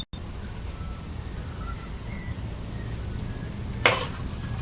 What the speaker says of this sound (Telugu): కొద్దిసేపు మూత పెట్టి కొద్దిసేపు ఫ్రై చేసుకోవాలి ఇంకా పచ్చిమిర్చి కరివేపాకు వేగే వరకు వేయించుకోవాలి